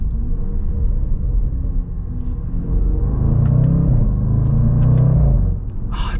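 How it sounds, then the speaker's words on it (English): A 2022 Range Rover Sport SVR with a supercharged 5-liter V8 rumbles and revs, its deep exhaust note swelling midway and then easing off, steady and close with little whine. "You don't get a whole lot of supercharger whine, even though it is a 5-liter supercharged V8. It's mostly exhaust."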